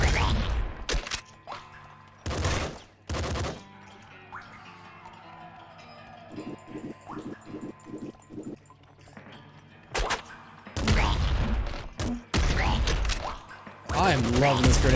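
Grenade launcher fire in the game Nuclear Throne, a series of sharp punchy blasts and bursts in clusters, with mechanical clicks and a quick run of rhythmic shots between them.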